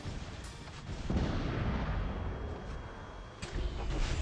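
Heavy weapons firing in the War Robots game, a dense rumbling barrage of booming shots and blasts that keeps rolling without a break, loud and close, with no voices.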